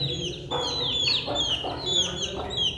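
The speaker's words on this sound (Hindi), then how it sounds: "ये मुर्गा कौन सा था इसके साथ?" A rooster at a crowded pet and livestock fair in Rawalpindi clucks in several short, fairly close bursts over faint background noise.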